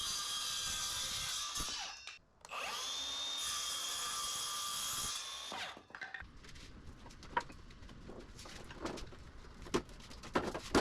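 A thicknesser planer whines loudly in a garage in two sustained high-pitched runs separated by a brief gap, then winds down and leaves scattered clicks and knocks.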